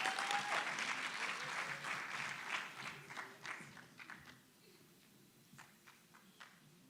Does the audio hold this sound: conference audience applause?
yes